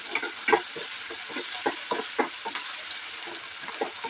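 Chicken curry base frying in a pan, with a steady broadband sizzle broken by irregular scraping stir strokes from a spoon, close and moderately loud with no talking.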